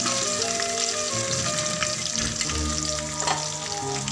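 Coriander powder sizzling in hot oil for egg curry, a loud, continuous crackling hiss heard up close without pause.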